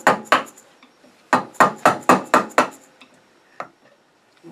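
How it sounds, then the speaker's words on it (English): Sharp 6mm chisel being struck into cherry burl wood on a lathe with the spindle locked: two quick taps, then a run of five sharp rhythmic knocks, and a lone fainter tap near the end, close and distinct with no talk. "I'm just going to take this sharp 6mm chisel, and I'm just going to chisel this off"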